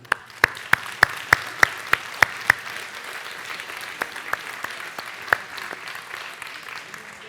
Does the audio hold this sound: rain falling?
no